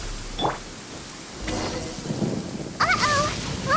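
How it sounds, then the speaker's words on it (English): A Genshin Impact thunderstorm rolls in with low rumbles and rain hiss, punctuated by brief bright sound effects and chiming game tones toward the end. "Uh-oh! Lightning storm! Just our luck."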